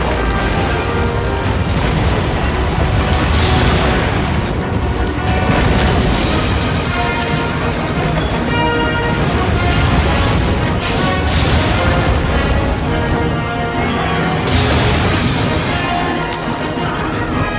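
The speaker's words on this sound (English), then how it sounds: "The compact anti-wyvern guns can reach it!" Compact anti-wyvern guns firing during a Monster Hunter Wilds fight against Gore Magala's Gagazios form, a dense, loud barrage of booms and crashes layered over continuous game music and effects for the whole stretch.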